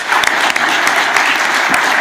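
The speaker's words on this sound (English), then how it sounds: "A round of applause for the panel." Applause for a panel at a regional transportation plan meeting in San Diego, a steady close wash of many hands clapping that fills the whole moment without a break.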